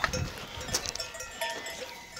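Faint sheep bleats drift across a mountain pasture, thin and distant among soft rustling outdoor ambience.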